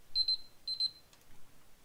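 Two quick bursts of high electronic beeping, an alarm-clock style alert in the strategy game Age of History, clear and close over near silence.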